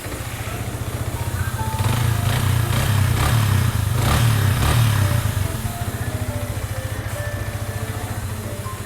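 A 2020 Yamaha YZF R15 motorcycle engine idling close by with a steady throbbing putter, rising briefly into a louder rev in the middle before settling back to idle.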